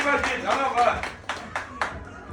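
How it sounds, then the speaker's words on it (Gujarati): A group claps for a student, a few seconds of brisk, uneven applause that thins to scattered individual claps, with voices talking over it. "આ વિદ્યાર્થી માટે તાળી પાડો"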